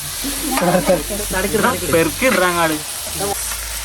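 Ginger dropped into hot oil and stirred while cooking chicken biriyani, a loud, close, steady sizzle with scraping stirs, while a person talks over it.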